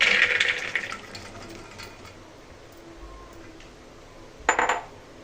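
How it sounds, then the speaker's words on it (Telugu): Soaked chickpeas washed in water: splashing, rattling and clinking as they are swirled in a vessel, louder at the start and in a short burst near the end, quieter sloshing between, no voices. "ఇవి నానబెట్టుకున్న తర్వాత ఇప్పుడు వాష్ చేసుకుందామండి టూ త్రీ టైమ్స్ వాష్ చేసుకున్న తర్వాత కుక్కర్లోకి వేసుకుందామండి"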